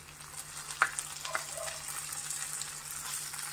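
Tomato and onion sauté softly in a pan, a faint steady sizzle with a couple of brief utensil scrapes early on and a low constant hum beneath.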